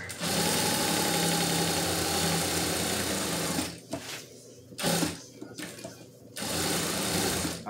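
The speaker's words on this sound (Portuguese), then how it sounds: "Agora eu tô ligando a máquina de novo." A home sewing machine stitching a two-colour rug runs in a loud, steady whirring drone, stops briefly twice with short bursts in between, then resumes at full speed, close up.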